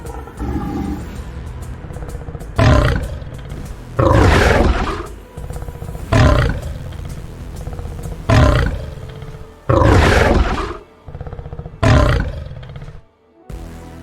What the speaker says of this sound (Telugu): సింహ జింకలకు ముందుకు హైనాలకు ఎదురుగా వచ్చి గట్టిగా గర్జిస్తాడు